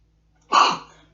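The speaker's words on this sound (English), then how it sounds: "I'm about to sneeze" A single sharp sneeze bursts out after a moment of quiet, loud and close, then trails off quickly.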